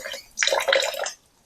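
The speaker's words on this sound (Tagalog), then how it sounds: "So, nagdag tayo ng tubig." Water pours into a pot of rice grains, a steady splashing gush of about a second that starts abruptly and stops cleanly, close by with no talking.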